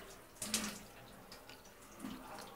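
Tap water runs for a dog's bath at home in the early evening, a soft continuous splashing flow with a couple of brighter gushes partway through, fairly close.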